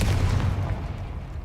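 A Confringo fire spell explodes in the video game Hogwarts Legacy: a deep, rumbling blast that rolls on as a heavy, sustained low roar for the whole moment, with no talking.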